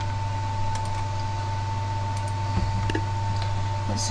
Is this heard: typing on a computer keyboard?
yes